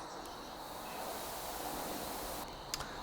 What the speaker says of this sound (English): let's start off by listening to real noise from our noise generator